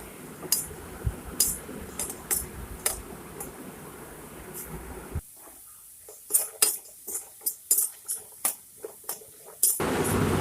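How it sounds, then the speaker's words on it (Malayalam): A metal spoon stirs potatoes and onion frying in coconut oil, scraping the pan in regular, close strokes. A low hum of frying or a fan sits underneath and drops away midway. "അതൊന്ന് മുരിഞ്ഞ് വരുന്നത് വരെ നമുക്ക് ഒന്ന് ഇളക്കി യോജിപ്പിച്ച് കൊടുക്കാം"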